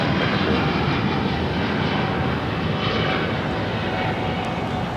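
An Emirates Airbus A350-900 jet at LAX gives a loud, steady engine roar that stays heavy and continuous throughout, with no talk.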